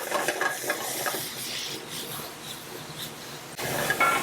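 Spring vegetables searing in a hot pan during a cooking demonstration, with a steady bright sizzle and hiss, light stirring and pan clatter, rising slightly near the end.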